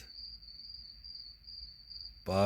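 Crickets and insects from a white noise sound machine: a steady, high, continuous chirring drone with no breaks. A voice cuts in briefly at the very end.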